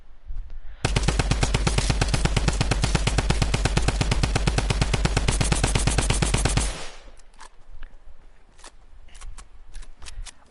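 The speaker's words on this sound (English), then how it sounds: "Let's do Tommy gun now, shall we?" A Tommy gun in the Fortnite video game fires at walls in one loud, sustained automatic burst of rapid shots lasting about six seconds, then stops abruptly, leaving faint scattered background noise.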